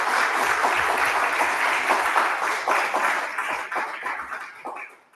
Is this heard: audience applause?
yes